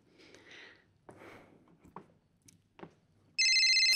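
A telephone rings loudly and steadily near the end, following a few quieter knocks and rustles in a room.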